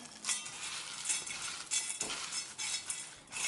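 Flaxseed dough for a flourless, gluten-free bread is worked by hand in a bowl, giving close, rhythmic squelching and scraping strokes in repeated bursts about every half second, with no talking.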